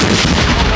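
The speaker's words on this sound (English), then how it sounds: "They keep trying to do bigger and bigger explosions." A loud, dense blast from an exploding hammer struck at a festival in San Juan de la Vega, Guanajuato, fills the short moment with sustained booming noise.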